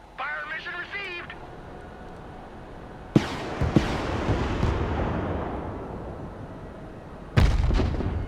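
Artillery fire in the video game Broken Arrow: after a short burst of radio-style chatter, two deep booming blasts land close together midway, with a third heavy thump near the end, rumbling over a low background.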